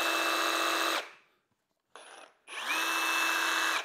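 A cordless Ryobi One+ reciprocating saw with a loose, vibrating blade cuts in two loud, steady bursts of buzzing motor whine, broken by a near-silent pause and a short mid-pause rattle.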